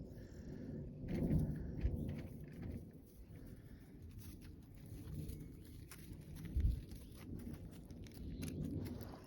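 Faint, low rumbles of thunder roll in over a quiet off-grid homestead, swelling twice and fading, with a soft steady background hiss that sounds like light rain.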